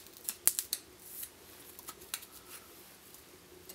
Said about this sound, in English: So what we want is this open cell foam, and all we do here is we cut